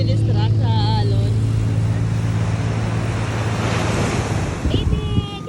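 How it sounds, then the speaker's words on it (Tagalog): Ocean surf washing continuously close by, heavy with wind buffeting the microphone, a loud broad roar that holds steady throughout while people talk over it. "Nadidistract sa alon."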